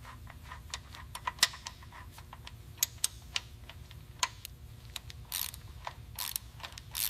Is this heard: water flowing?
no